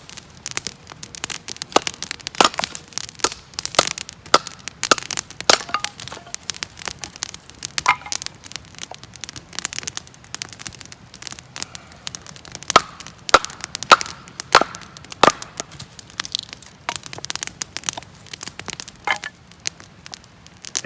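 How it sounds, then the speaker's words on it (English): A campfire burns at a solo backpacking camp in Red River Gorge, giving off a steady, dense stream of close, sharp pops and crackles over a soft background hiss. "Fire's going now."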